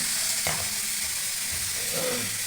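Onion frying in about a cup of hot cooking oil in a kadai while making a moong dal masala, a steady close sizzle with a stirring scrape and soft bubbling throughout.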